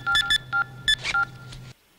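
Mobile phone keypad beeps: around seven short electronic tones in an uneven sequence over a low hum, then silence.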